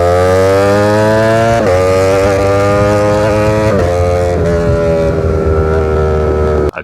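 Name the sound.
Streetfighter V4S motorcycle with titanium SC-Project exhaust running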